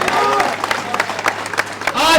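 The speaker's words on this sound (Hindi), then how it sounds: "जोरदार तालियां आपने अपने लिए बजानी है।" Scattered clapping from a gathered audience at a Holi event in Delhi runs under voices, then swells into louder cheering and applause at the end.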